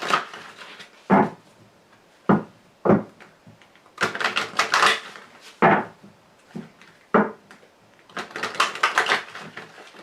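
A deck of Lenormand cards being shuffled and cut, giving bursts of riffling flutter and crisp slaps in an uneven rhythm, close and fairly loud, with no talk.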